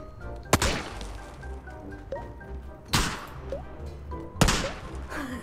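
Gunfire in a battle royale video game: three sharp, loud shots spaced a couple of seconds apart, each with a ringing tail, over a low game background.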